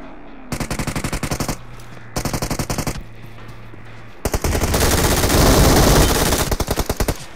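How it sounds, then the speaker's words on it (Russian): A teammate's automatic gunfire rattles in PUBG Mobile: two short rapid bursts, a gap, then a longer sustained volley tapering into a final quick burst. "Я думал, кто-то стреляет. А это наш."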